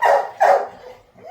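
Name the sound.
puppy dog barking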